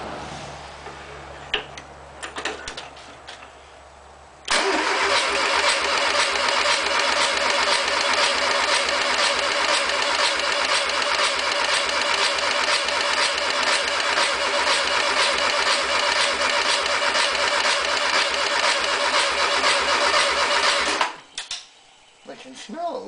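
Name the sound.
Volkswagen 1600 engine cranking and starting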